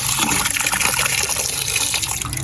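Loud, steady gushing water as seer fish is washed in Jaffna, a constant close rush of splashing liquid with no voices over it.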